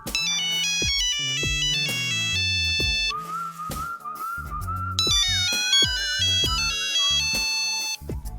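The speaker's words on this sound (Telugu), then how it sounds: "అమెరికా నుంచి సుబ్బారావు గారు మనకి ఫోన్ చేస్తున్నారు" A loud electronic phone ringtone plays a bright repeating melody of tones over a steady beat, sounding close and unbroken for several seconds.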